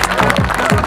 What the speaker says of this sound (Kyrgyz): Ушул Батыр мырзага бир кол чабуулар болду.